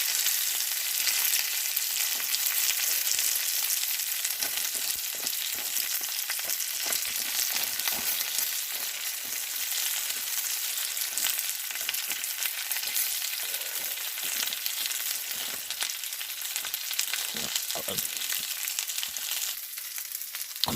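Tofu and cabbage fry in a pan with a loud, steady sizzling hiss close up, broken by occasional stirring clatter, and no voices.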